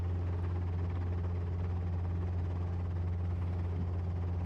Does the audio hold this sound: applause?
no